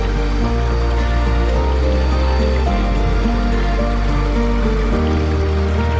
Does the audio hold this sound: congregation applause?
no